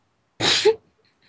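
A single sharp, close sneeze bursts out loudly and is over in well under half a second, followed by silence.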